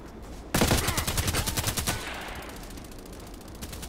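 A rapid burst of automatic gunfire from the online shooter game Contract Wars, roughly a dozen loud, close shots in quick rhythm lasting over a second, followed by a fading echo and one more faint shot.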